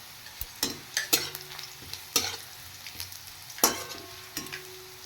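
Onion paste with a split dried red chilli fries gently in a pan, a soft background sizzle broken by intermittent clinks and scrapes of a spatula against metal, close and fairly quiet.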